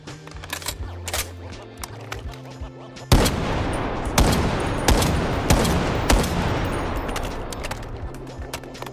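Loud, rapid gunfire from a weapon in the Delta Force video game, sustained automatic bursts that suddenly swell into a dense, booming barrage over a constant low rumble, close and dominant.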